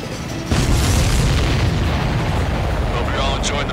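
Explosions in the Ace Combat 7 air combat video game, a deep sudden boom followed by a sustained, heavy rumbling roar, with faint voices in the background.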